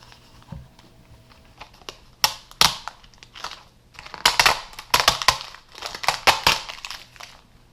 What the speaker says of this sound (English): often there's one part of the label that's glued down, so you may have to work at peeling that part off